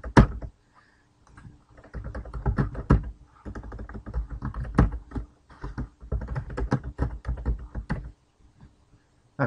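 Rapid, uneven clicking of a computer keyboard as registration data is typed in for a software license, close and clear, running almost the whole time with brief pauses and no talking.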